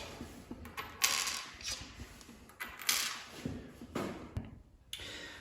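Metal washers are dropped onto bolts while an HPL table top is attached, making small, close clicks and light metallic taps at irregular intervals over a quiet room.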